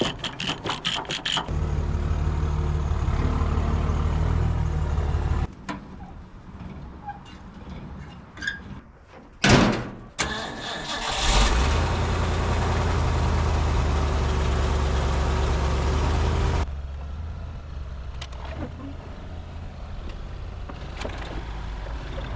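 An abandoned 1950s Ford tow truck engine cranks and fires, surging loudly before settling into a steady, deep rumbling idle that carries on close by, dropping slightly in level near the end.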